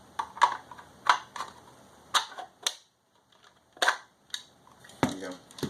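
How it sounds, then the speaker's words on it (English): A toy blaster's magazine slides in and clicks into place during an FDL-2 assembly, with a series of sharp, close plastic clicks and snaps in irregular rhythm over near silence. "There's the mag, should slide in pretty easily, and then click into place"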